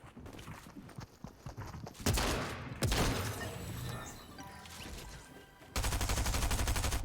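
Rapid submachine-gun fire in a multiplayer shooter, with bursts that turn loud and dense toward the end, mixed with busy game effects and footsteps.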